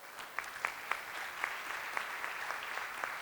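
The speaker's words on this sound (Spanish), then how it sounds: "Lo recibimos con un aplauso" An audience at a public policy dialogue in Ecuador applauds to welcome a speaker, a steady spread of clapping with a few sharper claps standing out, moderately loud and without any voices.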